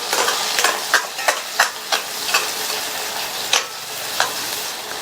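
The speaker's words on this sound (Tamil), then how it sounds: "நல்லா கலந்து விட்டுறலாம்." A spoon scrapes and knocks through taro root masala frying in a pan, a steady sizzle under repeated sharp stirring clicks and scrapes at close range.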